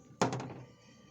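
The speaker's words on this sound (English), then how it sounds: "But I did just knock over half of my colorant." A container of soap colorant is knocked over, making a single soft thunk with a brief rattling clatter that quickly fades, close and quiet.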